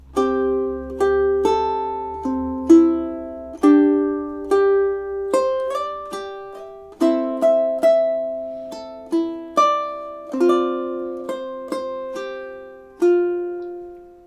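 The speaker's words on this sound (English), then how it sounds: "So let's have a go at playing those 2 measures through together, nice and slowly now." Ukulele plucked slowly through two measures of a song, clear close notes and chords ringing out one by one at a steady, unhurried pace with no talking.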